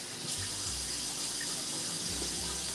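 Kitchen sink being washed out under a running tap, a steady close hiss of flowing water with faint clunks and scrapes underneath, no talking.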